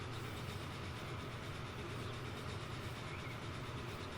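Steady low rumble and hiss of the Mallard steam locomotive running in Transport Fever 2, a continuous moderately loud drone with no talk over it.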